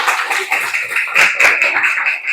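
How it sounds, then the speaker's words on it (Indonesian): A small classroom group claps briefly in uneven bursts, close and fairly loud, with a few scattered taps rather than a full rolling applause. "Ya, tepuk tangan."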